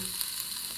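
Sausage browning in an Instant Pot, a steady close hiss of sizzling fat with no break and no voices.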